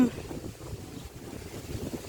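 Outdoor wind rushing steadily against a microphone, a low continuous buffeting rumble with gusty swells, fairly close and moderately loud throughout.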